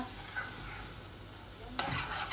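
Beetroot mash with onion leaves and a little coriander is stirred and scraped in a hot pan, a faint continuous sizzle with soft scraping and a sharper burst of sizzle near the end.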